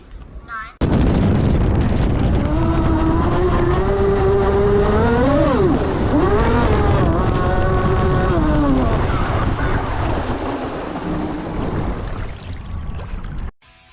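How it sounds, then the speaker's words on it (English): A Rampage RC speedboat capable of about 111 mph runs at speed on water, its high-pitched motor whining loudly and steadily for over twelve seconds, the pitch rising and dipping as it accelerates and turns, then cutting off abruptly. "The Rampage is just an awesome boat."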